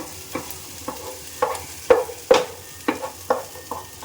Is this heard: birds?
no